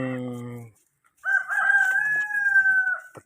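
Chickens in a backyard coop, ten birds kept in a new shelter: a short burst of clucking, then a pause and a single long, loud rooster crow close by, with no talk.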